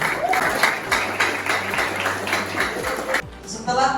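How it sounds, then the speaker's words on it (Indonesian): Applause for a student group in a classroom session on devotion to parents, steady clapping with some talk underneath, ending abruptly after about three seconds into quieter room noise. "Tepuk tangan kepada kelompok 2."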